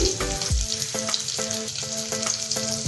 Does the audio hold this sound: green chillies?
yes